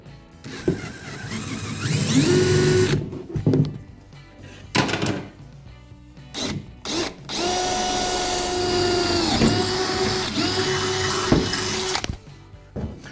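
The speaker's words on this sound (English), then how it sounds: "I'll use my drill to start a quick hole." A power drill starting a hole in aluminum on a jon boat deck whirs in several bursts, rising in pitch as it spins up, with pauses and light clunks between runs; close and fairly loud.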